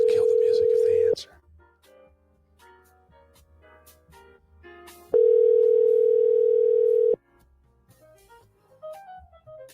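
Two long, loud, steady tones ring out on a telephone call, about a second and then two seconds long, separated by a quieter stretch of faint background sound.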